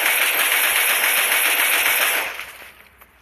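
A lightning gun firing in the video game Cyber Hunter: a loud, continuous buzzing electric rattle that holds steady for about two seconds, then cuts off and fades into quiet.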